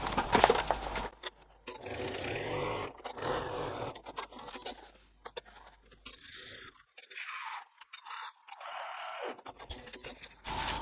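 A sewing machine stitches the sides of a pocket on a zipper tote bag, running in several bursts of varying speed separated by short pauses, fairly close and moderately quiet, with no talking.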